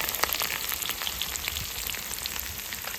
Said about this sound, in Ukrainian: Так, олійка вже нагрілася, тепер вкидаємо інгредієнти.